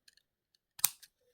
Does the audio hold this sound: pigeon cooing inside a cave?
no